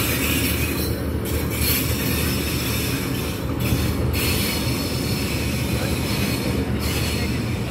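Diesel GU20 locomotive shunting passenger coaches of the Baba Fareed Express at a railway junction, a steady loud rumble of engine and rolling wagons with wheel squeal, no voices.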